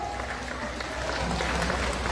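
An audience at a mayor's oath-taking ceremony in San Isidro claps steadily throughout, a thick, continuous wash of applause from a crowd, with a murmur of voices mixed beneath it.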